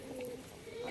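Young pigeons, a mated male and female pair, cooing softly in a steady low murmur that runs unbroken through the short moment.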